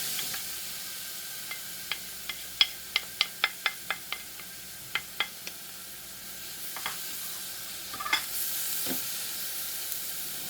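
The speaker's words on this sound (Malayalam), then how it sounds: "എന്നിട്ട് നമ്മൾ ഗ്രേറ്റ് ചെയ്തെടുത്തിരിക്കുന്ന ആ ബീട്രൂട്ട് ഇതിലേക്ക് ചേർത്ത് കൊടുക്കാം." Grated beetroot cooks in oil in a pan for a Kerala sadya-style beetroot pachadi, with a run of sharp, evenly spaced spoon clicks and scrapes against the pan over a faint background sizzle, close up and with no talking.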